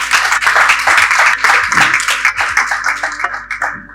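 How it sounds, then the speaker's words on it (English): Loud, dense applause from an event audience, a sustained round of clapping that carries on for several seconds and slowly tapers, with no speech over it. "A resounding round of applause."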